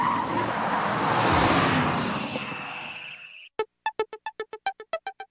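Mercedes SLS AMG super sports car in Gran Turismo 5 roaring past with a broad rushing swell that fades after a few seconds, followed by a rapid series of short, evenly spaced clicking tones.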